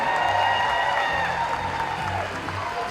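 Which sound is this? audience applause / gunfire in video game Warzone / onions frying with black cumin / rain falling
audience applause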